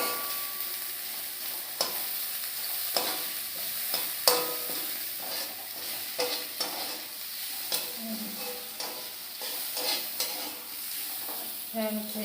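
Shrimp fry in a hot pan with a continuous sizzle, broken by repeated clacks and scrapes as a utensil stirs them, the sounds close and moderately loud.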